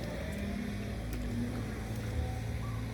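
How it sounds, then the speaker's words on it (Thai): A water pump running at a work site after rain, a steady mechanical engine drone with a low hum, continuous and moderately close. "ทีมงานหนุ่มรอของเราก็กำลังสูบน้ำอยู่"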